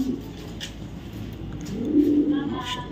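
A racer pigeon coos softly nearby, a low murmuring call that swells toward the end over quiet room noise.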